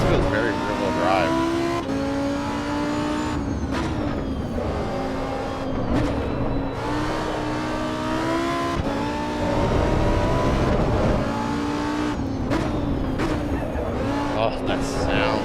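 A Lamborghini engine in a racing video game revs and roars steadily throughout, its rising and falling pitch filling the mix while a person talks over it.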